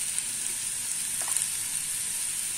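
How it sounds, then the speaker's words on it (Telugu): Ridge gourd peel frying in a pan for a Telugu chutney, a soft steady sizzle with faint hiss and a few light stirring clicks. "ఇలాగా కొద్దిసేపు ఈ విధంగా ఫ్రై చేసుకున్నామండి"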